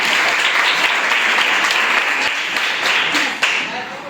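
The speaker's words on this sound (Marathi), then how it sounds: "लावण्यासाठी परत एकदा टाळ्या वाजवायच्या" Schoolchildren at a primary school quiz clap together in sustained applause, a dense, steady patter of many hands that fades slightly toward the end.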